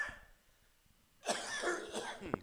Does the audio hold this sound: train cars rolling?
no